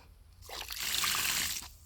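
Water trickles and splashes out of a water storage tank outlet, a soft, close stream that starts abruptly, runs for about a second and stops, fairly faint overall.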